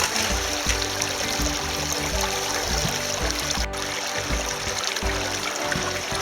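Water from a bucket pours steadily over a gold-panning sluice on a river, a continuous rushing trickle with uneven splashy pulses throughout.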